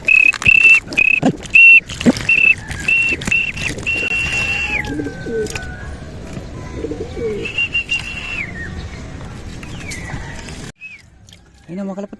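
Racing pigeons arrive at their loft after a race, with repeated soft coos and whistle-like calls close by. Someone talks over them throughout.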